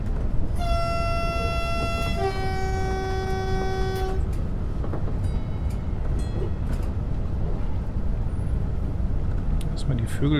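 A Siemens Desiro HC train horn in Train Simulator Classic sounds two loud sustained tones back to back, the second lower and longer, over a steady rumble of the moving train.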